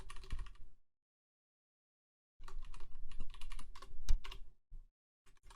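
Close keyboard typing comes in two dense bursts of quick keystrokes separated by a silent pause, ending in a few scattered taps while text is edited in a ZEPETO Studio project.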